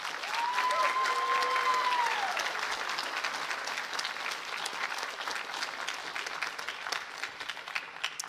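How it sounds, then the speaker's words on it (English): A crowd applauds steadily and loudly throughout, the clapping dense and sustained, with a brief whistle-like tone rising above it near the start. "Please give them a round of applause."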